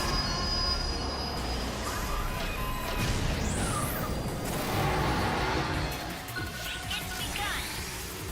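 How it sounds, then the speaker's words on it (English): A train in Phantasy Star Online 2 rumbles past with heavy, continuous rolling noise and high metallic wheel squeals that rise and fall, loud and close throughout. "Train."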